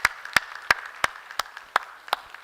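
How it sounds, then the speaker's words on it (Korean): A congregation applauds at a Holy Week dawn prayer service in a church: sharp, evenly spaced claps close by, about three per second, ride over a softer continuous wash of group clapping, with no talking. "우리 모두를 위해서 박수로 한번 격려하겠습니다"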